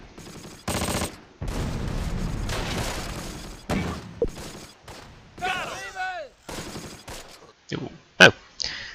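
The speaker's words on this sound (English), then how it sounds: "Okay, that's actually a pretty good mortar rush." Mortar blasts and gunfire in the Close Combat: Last Stand Arnhem video game: a run of sharp, heavy explosions and scattered shots, loud and irregular, with brief quieter gaps between bursts.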